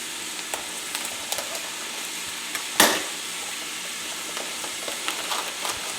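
Onions and mushrooms frying in a pan, a steady soft sizzle close by with scattered small pops and one louder burst partway through, and no one talking.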